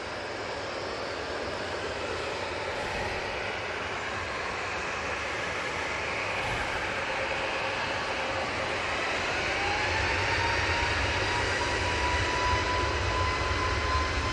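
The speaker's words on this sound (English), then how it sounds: "It's the Aer ATR 72 coming in from Guernsey" An ATR 72 turboprop airliner arriving from Guernsey at Manchester Airport hums and roars steadily, growing slightly louder toward the end, with a faint rising whine over the drone and no talk.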